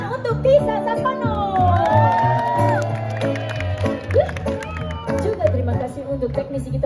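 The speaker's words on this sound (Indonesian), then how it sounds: "Beri tepuk tangan untuk Tisa Tapano." A concert crowd at a live comedy and music festival cheers, whoops and claps, fairly loud and close, while a sustained musical tone plays underneath.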